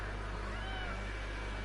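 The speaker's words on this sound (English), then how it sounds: "she just meowed at me" A pet cat meows faintly in the background of a room while a PlayStation hums steadily, one soft drawn-out mew under constant fan noise.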